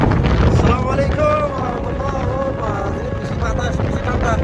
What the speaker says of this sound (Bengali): বেশি বাতাস বেশি ঠান্ডা